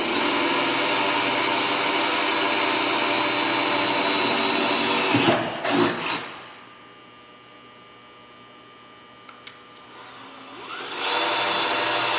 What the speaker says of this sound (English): Now we've pre-drilled all the holes for the braces.